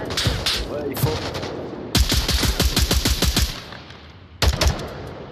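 Rapid automatic gunfire in the Onward VR shooter on Meta Quest 3, loud close bursts of evenly spaced shots with short pauses between them and brief talk underneath.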